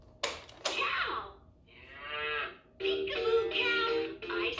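A LeapFrog Learn & Groove musical table toy plays a recorded cow moo, a drawn-out electronic lowing after a couple of sharp clicks, followed by the toy's bright synthesized voice.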